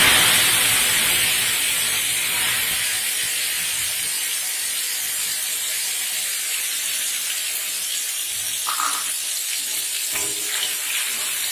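Cumin seeds and a ground spice paste hiss and sizzle in hot oil in a pan, a steady broadband frying sizzle that gradually settles, with a few brief spatters near the end.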